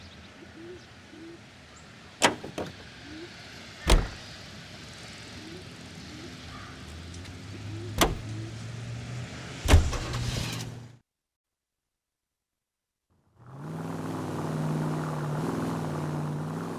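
A car is driven in the 1940s Los Angeles crime game L.A. Noire, with a low engine hum under several sharp clicks and thuds, a sudden stretch of silence, then the engine rumbling steadily again.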